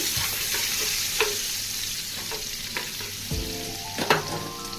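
Butter and ginger-garlic paste sizzle steadily in a hot pan, a close continuous frying hiss with occasional stirring scrapes and taps, no talking.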